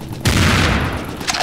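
Enemy gunfire in Serious Sam 2 bursts out suddenly as a loud, dense volley that fills the moment and then tails off, with another shot sounding near the end.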